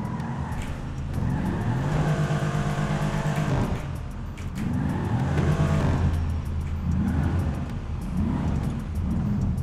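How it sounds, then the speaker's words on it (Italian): A car engine in the video game GTA 5 revs hard and climbs in pitch, drops, then revs again in a second long roar, loud and close. "E mo' gli faccio sentire l'accelerata,"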